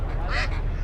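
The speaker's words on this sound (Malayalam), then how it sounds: "താറാവ്." A duck quacks once at a busy poultry market in Jeddah, a short nasal call rising above the steady low rumble and chatter of the crowd.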